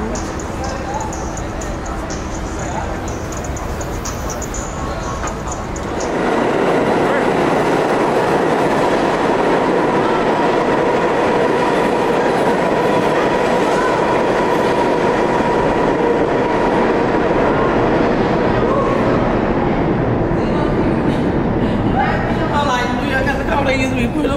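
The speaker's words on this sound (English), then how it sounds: "We're under the ground at the subway." A New York City subway train in an underground station, its loud broadband rumble and rail clatter rising sharply after a few seconds of quieter ambience and continuing steadily, with people speaking nearby.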